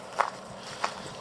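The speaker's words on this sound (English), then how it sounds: "Can you hear my footsteps across the stones?" Footsteps crossing stones outdoors, a few soft, irregular scuffs and crunches picked up by a camera's top-mounted microphones, faint and close with low background hiss.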